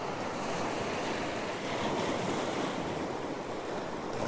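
Ocean waves break over rocks along a rugged seascape, a dense continuous roar of surf and whitewash with wind rushing across the microphone, loud and steady throughout.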